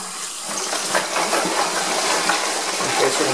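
Water poured out of a container of brass cartridge cases during cleaning, a steady broadband splashing rush lasting several seconds, close and fairly loud, with no talk.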